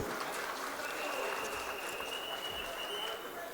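A crowd applauds at the foundation stone ceremony for the redevelopment of Bhubaneswar railway station, a sustained, even patter of many hands clapping at some distance.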